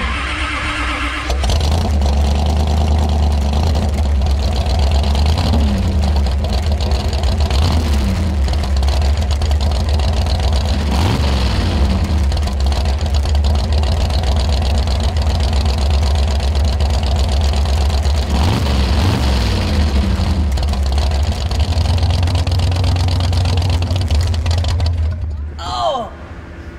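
Hemi-powered 1934 Ford Coupe hot rod idling indoors, a loud, continuous low throbbing idle with a choppy edge and a few blips of revving, people talking over it, the engine cutting out near the end.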